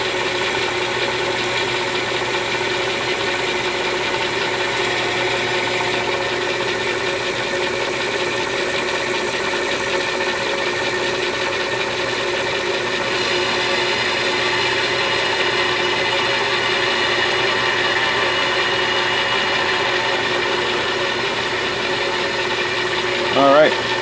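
A machine hums and whines steadily while it drills holes in a wooden stock for an HW30 air rifle action, a continuous mechanical drone with faint rattling that holds unchanged for over twenty seconds before a brief final clunk.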